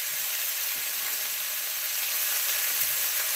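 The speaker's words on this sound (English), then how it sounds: "got a little sizzle going on. We got some garlic in there." Garlic sizzles steadily in a stir-fry pan for a chicken and vegetable stir fry, making a constant bright hiss of frying oil with faint stirring underneath and no talking.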